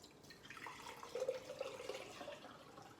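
Homemade apple brandy trickles into a jar in a soft, brief pour, faint and close, with a light splashing stream that rises briefly and then tapers off.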